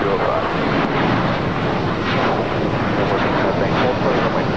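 A steady, loud roar from an airplane on runway 25 right at LAX, with wind buffeting the microphone; the noise stays even throughout, and radio talk is heard faintly.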